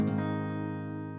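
A single guitar chord rings out with the index finger lifted, a soft strum decaying smoothly over about a second, faint and alone.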